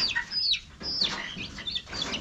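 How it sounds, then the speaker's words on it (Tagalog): Several high-pitched turkey calls ring out one after another at close range, shrill squawking notes separated by short gaps. "Yun, 2 pabo binigay sa akin."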